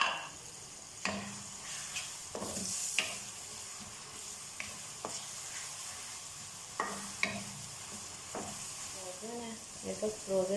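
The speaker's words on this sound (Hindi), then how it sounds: "ऑयल ऐड करने लगी हूँ" Oil sizzles in a kadhai for Punjabi-style gobi gosht, a steady hiss broken by repeated clanks and scrapes of a utensil against the metal, with faint speech in the background.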